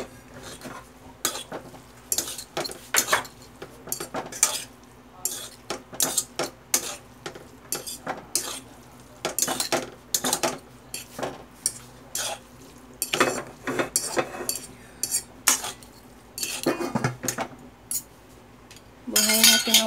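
A utensil stirs instant pancit canton with boiled eggplant in a pot, giving rapid, irregular clinks and scrapes of metal against cookware, loud and close throughout with little talk.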